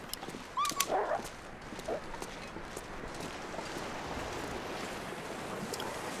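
Dogs attacking in the survival video game The Long Dark, a few snarling barks and yelps early on over a faint steady wind-like ambient hiss, then only the quiet background.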